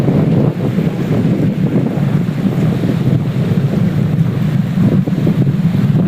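Sea waves wash onto a shore by a temple tank while strong wind buffets the microphone, a loud continuous roar with no voices.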